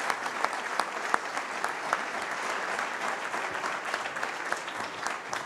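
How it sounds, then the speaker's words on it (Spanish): An audience applauds award winners at a foundation's 20th anniversary ceremony, a continuous wash of clapping with some sharper individual claps standing out, moderately distant. "un fuerte aplauso para los ganadores"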